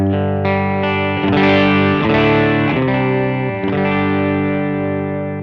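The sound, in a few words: electric guitar through Boss ME-80 multi-effects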